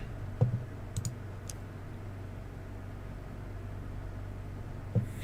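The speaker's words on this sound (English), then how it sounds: "Keyboard and mouse." Computer keyboard and mouse being used to drive in a sim-racing game, heard as a few sparse, quiet clicks over steady low background hiss.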